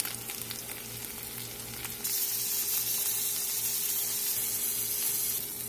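Garlic and onion fry in a pan with steady sizzling that suddenly grows louder and brighter when more ingredients go in, close and continuous, with no talking.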